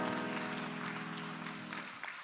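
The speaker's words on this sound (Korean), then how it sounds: "우리 박수로 서로의 삶을 응원하며 축복합니다" A church youth congregation claps at a Sunday worship service, a soft steady patter of applause over a lingering sustained musical tone that fades near the end.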